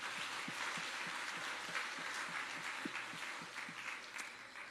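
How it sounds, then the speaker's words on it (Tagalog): A church congregation applauds at a Sunday service, a faint, distant, steady patter of many hands with a soft rhythmic thump running beneath it. "isa pa pong malakas na palakpak kay Jesus"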